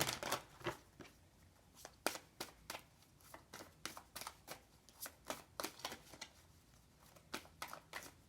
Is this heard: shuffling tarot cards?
yes